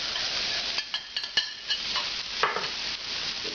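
Red onion sizzles as it hits a hot pan while braising chicken with artichokes and chanterelles, a steady close frying hiss broken by a few sharp crackles and stirring clatters, with no talking.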